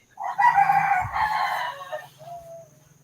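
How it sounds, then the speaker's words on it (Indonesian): A rooster lets out a single loud, close crow that rises, holds and trails off, heard alone over a faint background hum. "Ada suara ayam."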